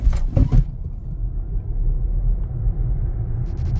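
A 2024 BMW iX1 xDrive30 electric car launches and accelerates, with a low road and tire rumble that swells steadily, plus a couple of brief thumps at the start.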